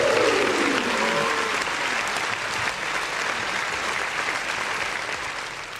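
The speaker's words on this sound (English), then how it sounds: "this deserves a round of applause, ladies and gentlemen" Applause from a crowd on a basketball pre-game show, a dense, sustained roar of clapping that stays loud and even across the whole stretch, with a brief voice at the start.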